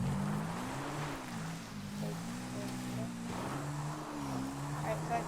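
Sanchez dirt bike engine in GTA 5, ridden through a desert area, droning steadily throughout, its pitch rising and falling with throttle changes, fairly loud and continuous.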